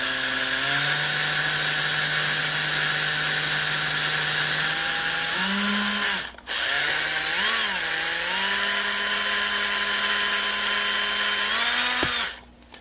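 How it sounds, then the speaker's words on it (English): A loud electric drill whines steadily while drilling a lamp during repair, its pitch stepping up partway through, with a brief cut-out midway before it winds down at the end. "Just letting the drill do the work, not pushing"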